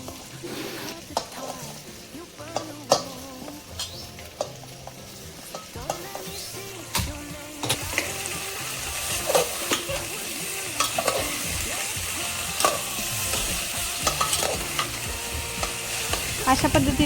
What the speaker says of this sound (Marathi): आता या भाज्या 5 मिनिट परतून घ्यायच्या